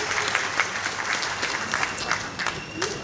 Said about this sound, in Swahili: Tupige tena makofi kwa Young Africans.